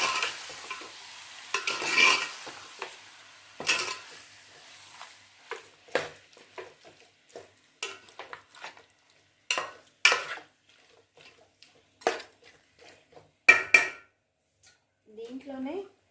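Chicken curry stirred in a pan with a spoon, a series of distinct scraping, clattering strokes against the metal with quiet gaps between them, over a faint sizzle; a brief voice comes in at the end.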